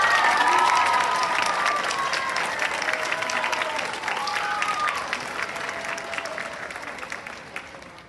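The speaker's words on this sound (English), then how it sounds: "I'd love for you to give a round of applause to Jade Robinson." An audience at a 2022 culmination ceremony gives a round of applause for an award recipient, a loud, dense clapping that starts at full strength and gradually thins, with faint cheers and voices in the crowd.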